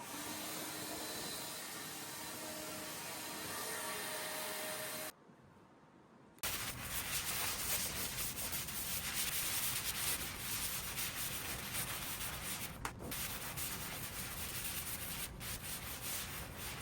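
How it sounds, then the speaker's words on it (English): Rough 80-grit sandpaper rubbed across a Camaro's steel body panels, a steady close scratching that runs continuously, breaks off for about a second, then resumes harder and louder, with a couple of sharp knocks along the way. "Working my way around the car with 80 grit to highlight the trouble areas"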